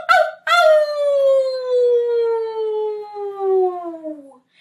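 Children's voices imitate a wolf howling at the moon in a music class, one long loud howl that slides slowly downward and fades, after a short opening yelp.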